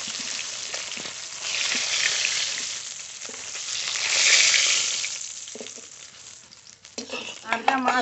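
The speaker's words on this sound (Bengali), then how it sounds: "এই মাছগুলো ভাজা হয়ে গেছে" Pieces of a large 2 kg fish sizzle steadily in hot oil in a pan, a dense crackling hiss that swells and fades, with some stirring and a brief voice near the end.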